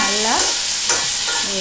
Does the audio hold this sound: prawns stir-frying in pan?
yes